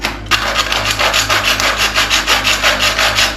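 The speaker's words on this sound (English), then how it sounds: "I'm going to cut this right the way through" A fine-bladed hacksaw cuts through a faux wood venetian blind slat with a metal section, giving close, loud, steady back-and-forth rasping strokes in a regular rhythm.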